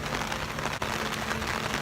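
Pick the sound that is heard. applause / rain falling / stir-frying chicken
rain falling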